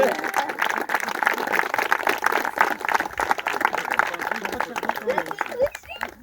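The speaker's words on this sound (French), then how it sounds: "Applaudissements pour cette superbe inauguration." Outdoor crowd applauding at the inauguration of a pump track in a ski resort village, lively clapping close and loud for several seconds with voices chattering through it, thinning out near the end.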